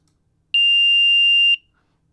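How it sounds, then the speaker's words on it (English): A single loud, steady electronic buzzer tone from a small buzzer wired to a Raspberry Pi, lasting about a second, clean and high-pitched, with silence before and after. "it buzzes for a second"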